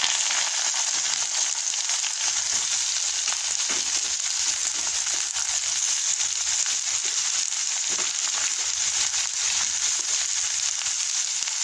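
Rice and chillies frying in hot oil in a pan, a steady loud sizzle with a dense crackle that runs without a break for the whole stretch, with no talk.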